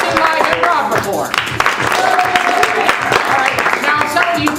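An audience at a live improv comedy show claps in a dense, sustained burst of many hands, with voices mixed into the crowd noise.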